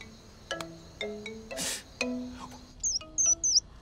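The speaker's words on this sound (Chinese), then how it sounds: "这大半夜的，哪来的破鸟在这叫啊？" A bird calls out at night in a quiet indoor setting, a few sharp chirps arriving in a quick cluster near the end after softer tonal sounds and a brief noisy burst.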